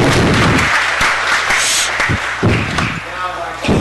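An audience at a Los Angeles city council meeting applauds a high school group, a sustained round of clapping with a few thumps as a voice speaks over it.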